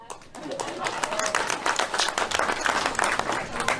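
Several people clap in quick, uneven bursts nearby, mixed with excited voices, in a small group setting in Hawaii.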